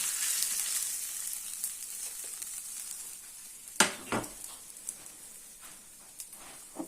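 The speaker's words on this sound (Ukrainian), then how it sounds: "Курятина теж вже готова. Трошки підсмажена, пропарена. Ой, і теж пересипаємо." Pieces of fried chicken tipped into a hot pan: a bright, steady sizzle of frying up front, then sharper crackles and scraping knocks as the food lands and is stirred, with no one speaking.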